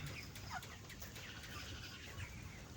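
A three-legged broiler chicken gives soft, short clucks now and then against a quiet, low background hum.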